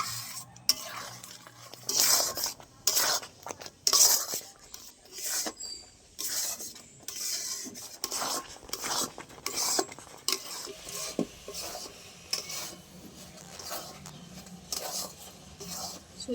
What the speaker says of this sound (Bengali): ভালো করে এরকম নেড়ে চেড়ে একদম শুকিয়ে নেব।